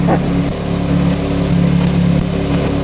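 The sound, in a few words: Benz Brabus SV12 R car engine running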